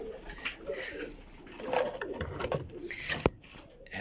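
Sialkoti pigeons cooing softly at close range, with low repeated coos and light fluttering and shuffling sounds in a loft, plus a faint voice in the background.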